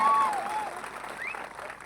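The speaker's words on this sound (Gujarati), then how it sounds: "ચૈતરભાઈ વસાવા માટે એકવાર જોરદાર તાળીઓ થઈ જાય" A crowd at a village political gathering in Dharampur, Valsad claps in a brief, even burst of applause, heard at a moderate distance with a faint tonal whine over it.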